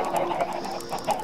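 Chickens cluck in a small, enclosed coop, a busy overlapping run of short clucks and calls heard close and fairly loud for a moment, with no talking.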